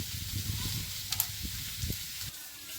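Green chillies sizzle and hiss in hot oil in a pan for a pumpkin fish curry, a steady frying crackle with a few sharp pops and light stirring clicks, fairly close.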